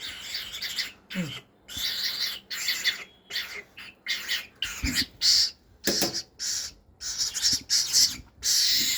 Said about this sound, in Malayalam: ഇതാണ് വിളി ഇങ്ങനെ ഇങ്ങനെ വിളിക്കുകയാണ്